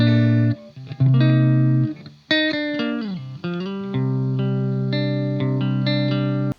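Electric guitar played through an amp with a Boss GE7 equalizer pedal in the effects loop, sustained distorted chords and notes ringing out loud and continuous, no talking.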